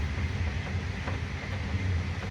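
A sleeper train running on tracks, a continuous loud rumble and rattle heard from inside the carriage with a deep steady drone throughout.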